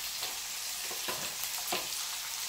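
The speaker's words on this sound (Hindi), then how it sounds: "और बस इसे डीप फ्राई होने दीजिए" Sweet potato deep frying in hot oil, a steady close sizzle with soft stirring scrapes cutting through at intervals, with no voices.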